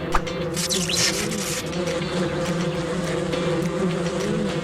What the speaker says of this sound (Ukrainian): Ой-ой! Бджоли!